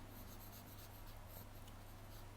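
An eraser scrubs writing off a board in a quick, faint series of rubbing strokes over a steady low hum.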